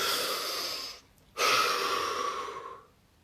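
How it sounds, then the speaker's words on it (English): A deep breath drawn in, then after a short pause a second long, loud breath follows, both close and airy with no talk over them. "Take that breath."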